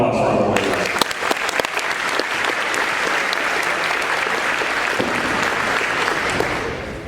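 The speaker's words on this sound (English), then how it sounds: "Round of applause for our boys." Steady applause from an audience at a high school athletic signing ceremony, a dense wash of clapping that begins right after a brief voice and fades slightly toward the end.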